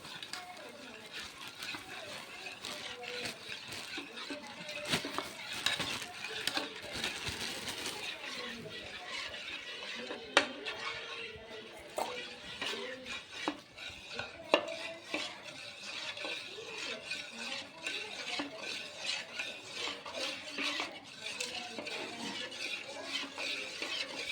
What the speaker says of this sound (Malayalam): ഇതുപോലെ മിക്സ് ചെയ്ത് മിക്സ് ചെയ്ത് എടുക്കണം